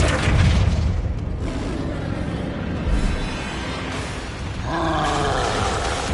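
Flipendo knockback spell cast in Hogwarts Legacy, a loud booming burst of game effects that rumbles on through dense combat noise, with a second heavy impact toward the end.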